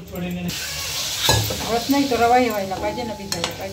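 Semolina gulab jamun mixture stirred with ghee in a pan, a close sizzle with a spoon knocking and scraping the pot, and a voice speaking briefly over it.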